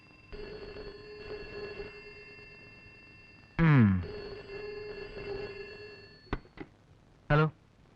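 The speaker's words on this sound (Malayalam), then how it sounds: "അയ്യോ, അവനാ ഫോൺ ചെയ്യുന്നത്." An old telephone rings indoors in a vintage Malayalam film scene. Steady electronic ringing tones continue through the moment, and short loud vocal outbursts cut in over them.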